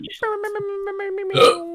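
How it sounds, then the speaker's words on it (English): A single short hiccup bursts out of a voice mid-sentence during casual esports talk, loud and close, with speech before and after it. "Oh, excuse me. That was a hiccup."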